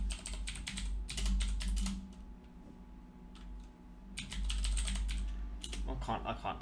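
Fingers tap steadily on a computer keyboard in rapid bursts of clicks, fairly close, with a short pause midway and faint background noise.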